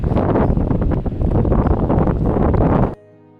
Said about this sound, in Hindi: बहुत तेज़ हवा चल रही है यहाँ पे, बहुत तेज़ हवा